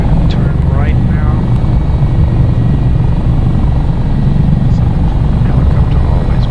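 An Airbus HH-65C helicopter in a flight simulator game drones steadily with a loud, continuous rotor and engine hum throughout, with faint tonal blips over the top.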